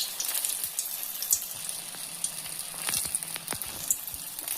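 Onion bonda fritters fry in hot oil with a steady hissing sizzle, punctuated by sharp pops and crackles close by.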